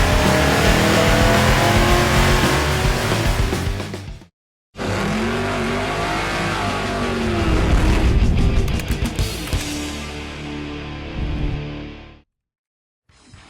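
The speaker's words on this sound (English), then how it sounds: "You've heard the growl of the Ford V8." A Ford 363 V8 built from a 5.0 liter, fitted with a Dart SHP block and running on a dyno, growls loudly and revs hard. A short cut near four seconds interrupts it, and it rises and falls before stopping abruptly near twelve seconds.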